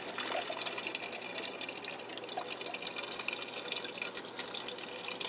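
Canned beef stock pours steadily into a cooking pot, a soft continuous liquid splash and trickle at low volume with no talking.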